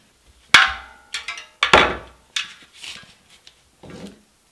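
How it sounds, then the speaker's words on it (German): A hammer is set down on a workbench while a CushCore tyre insert is being fitted. Several sharp knocks and clatters come close together, each one brief and close-miked, with no talk over them. "Ich habe jetzt hier unten einen Hammer hingelegt"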